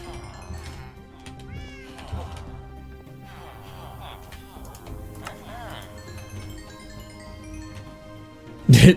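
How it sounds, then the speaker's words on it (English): A cat meows several times in a Minecraft 1.20.1 survival game, short rising calls scattered over a steady background of game sounds and ambient music, moderately loud and close, ending with a sudden louder burst. "There's a cat."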